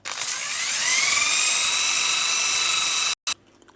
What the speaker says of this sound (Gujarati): આ રીતના એને કમ્પ્લીટ ઘસી નાખવાનું।